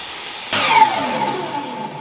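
A noisy power saw roars into life after a brief stretch of quiet, holding a loud, steady whine with a faint descending tone as it runs on for about a second and a half, used while building a heavy-duty roller stand.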